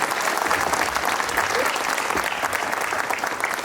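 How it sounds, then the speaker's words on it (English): A crowd applauds at an outdoor ribbon cutting for a high school career technical education building, with a continuous, even roar of clapping and faint crowd murmur underneath. "Let's give them a round of applause."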